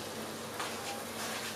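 A little boiling water poured into a hot frying pan of browned stuffing patties gives a loud, steady, close sizzle lasting under two seconds, with no talking.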